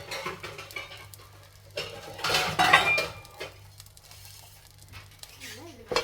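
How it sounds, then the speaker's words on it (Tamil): A lid is set onto a cooking pot of sambar with samba rice or millet and vegetables in water, giving a brief metallic clatter in the middle, amid lighter kitchen clinks and soft background hum. "இப்போ மூடி வச்சிடலாம்."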